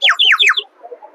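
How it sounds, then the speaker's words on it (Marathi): A water-filled ceramic bird whistle toy gives three quick warbling chirps in a row, close and loud, then goes quiet with faint background murmur. "पाणी घातली की याच्यामध्ये आवाज, पक्ष्यांचे वेगवेगळे आवाज येतात."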